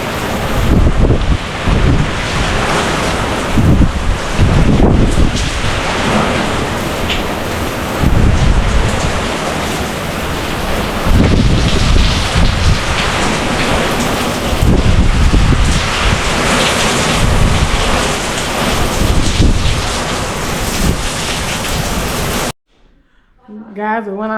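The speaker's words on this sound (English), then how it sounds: "really windy out here," Strong gusting wind ahead of Hurricane Milton roars loudly and continuously against the microphone, with surging buffeting bursts throughout before cutting off abruptly near the end.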